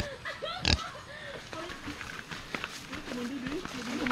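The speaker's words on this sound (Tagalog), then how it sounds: "Tapos may mga baboy dito guys." Pigs grunt and oink in short, scattered bursts at Happy Valley, San Isidro, Northern Samar, fairly close, with footsteps and a voice talking over them.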